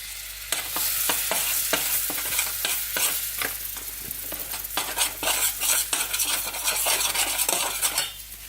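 A utensil stirs flour into melted butter in a pan for a roux, with quick repeated scraping strokes and clinks against the metal over a soft, steady sizzle, close and fairly loud.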